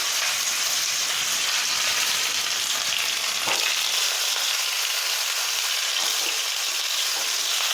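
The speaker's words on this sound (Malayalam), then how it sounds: "ഇനി അതിലേക്ക് നമുക്കൊരു 2-3 വറ്റൽമുളക് കൂടി ഇട്ട് കൊടുക്കാം" Dried red chilies and curry leaves sizzle in hot oil with mustard seeds, a Kerala-style tempering for pineapple pachadi; a loud, steady, close crackling hiss with a sharp pop partway through and no voices.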